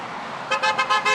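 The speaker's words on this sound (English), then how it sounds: "A honk for support sounds good to Yvette Simpson volunteers" A car horn honks several quick times in a row, loud and close over a faint background hum of street noise on an election day in Cincinnati.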